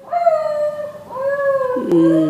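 A dog howling and crying nearby, two or three drawn-out, wavering whine-like howls that rise and fall in pitch, heard clearly with no talk over them.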